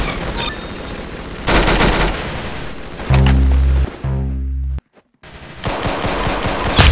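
Gunfire in the video game Arsenal: loud bursts of rapid automatic shots in several separate volleys, broken by a short silence, no talking.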